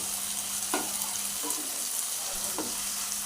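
Garlic and ginger paste fries in oil, a soft, steady sizzle close by with a few scraping stirs of a utensil against the pan.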